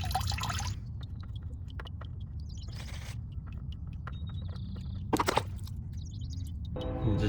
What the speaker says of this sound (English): now that it's just dripping a little bit, I can open it up some more, let some more drain out